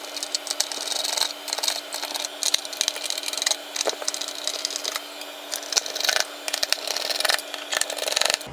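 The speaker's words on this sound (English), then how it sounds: "So six screws come out next, and this cover pops right off." Small screws are backed out of the case of a budget mini PC with a close, rapid, rattling ratchet-like buzz that keeps repeating in bursts with short pauses, and no one speaks.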